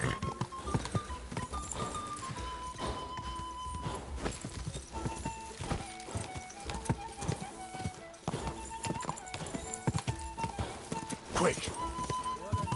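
Horse hooves clip-clop steadily through a medieval game world in Kingdom Come: Deliverance II, a close, continuous gallop-trot rhythm with an occasional whinny, layered with music and ambient game sound.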